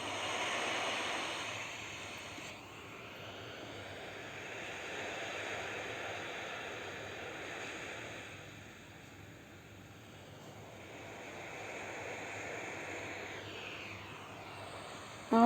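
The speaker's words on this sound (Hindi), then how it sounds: "पानी दिख रहा है आता हुआ जाता हुआ, लहरें आती हुई जाती हुई" Ocean waves roll in and wash back out in a steady, broad surf hiss that swells and eases gently over the whole stretch, with no voices.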